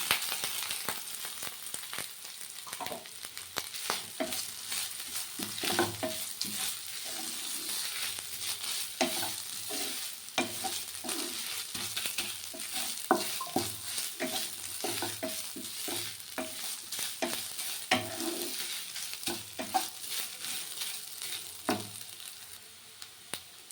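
Grated coconut frying in a pan with lightly browned garlic while being stirred, a steady sizzle broken by repeated scraping strokes of the spoon, close and continuous with no talk.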